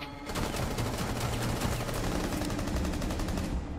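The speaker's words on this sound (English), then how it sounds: "I shot my teammate" Rapid automatic gunfire from Rainbow Six Siege rattles on continuously at close range, a dense unbroken burst of shots filling the whole moment with no talk over it.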